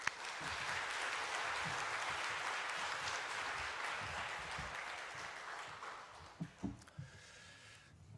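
Congregation applause welcoming a preacher to the pulpit at a Korean church revival service, a dense steady wash of clapping that fades out near the end, followed by a few scattered thumps and handling noises.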